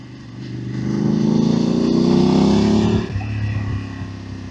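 A Voge DS900X motorcycle with its stock exhaust revs up close, rising to a sustained loud, smooth tone before dropping back toward idle without pops or bangs on the overrun.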